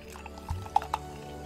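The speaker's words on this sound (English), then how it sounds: "Drink pouring ASMR, yeah." A short splash of drink poured into a mug, a brief trickle with a couple of bright, hollow drip-like plinks near the end, close and fairly quiet.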